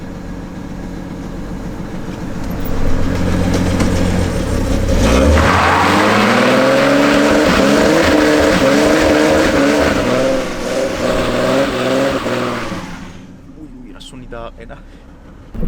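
An old VAZ 124 car engine revs hard and rises in pitch as the wheels spin, ending abruptly, with someone talking over the loud, close engine roar.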